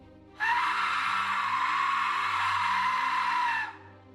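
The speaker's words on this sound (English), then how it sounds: "It's a piercing shriek, a high-pitched wail that sounds eerily like a human scream, or maybe hundreds of them all at once." An Aztec death whistle lets out one sustained, piercing, high shriek like a human scream, starting abruptly, holding steady and loud for about three seconds, then cutting off over a low background hum.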